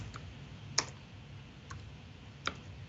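A few faint, widely spaced keystrokes click on a computer keyboard during a .NET web services coding session, quiet and isolated against a low background hum.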